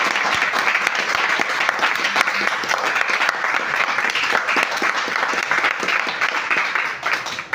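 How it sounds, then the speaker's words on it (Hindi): Loud, continuous audience applause at a Hindi stage event, a dense wash of clapping hands that holds steady throughout and fades slightly at the very end. "अपनी मम्मी के लिए जोरदार ताली।"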